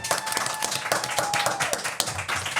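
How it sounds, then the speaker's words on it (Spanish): Scattered clapping from a small audience in a radio booth, brisk and close, with a faint steady tone underneath. "Señores, un aplauso."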